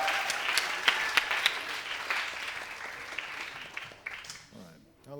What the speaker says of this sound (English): Clap your hands for the lightning round.